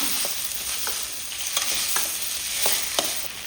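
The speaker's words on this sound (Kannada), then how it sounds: "ಟೊಮೆಟೊ ಕೂಡ ಹಾಕಿ ಇದನ್ನು ಬಾಡಿಸ್ತೀಯ" Sliced tomato sautéing in hot oil in a pan for sambar, a steady close sizzle with soft scraping stirs recurring every half second or so, no voices.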